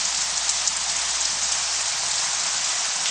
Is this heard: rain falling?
yes